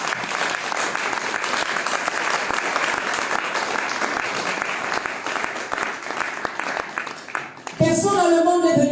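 A church congregation applauds the Lord during a French-language sermon, with dense, sustained clapping and crowd noise filling the space throughout, then a brief shift to voices at the very end.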